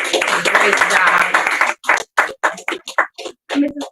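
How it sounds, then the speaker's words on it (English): An audience at an awards ceremony claps for awardees in a dense burst lasting under two seconds, and speech follows. "Another round of applause to them."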